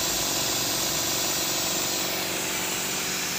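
An air compressor running and filling with air gives a steady, continuous hissing drone at moderate volume, unbroken throughout.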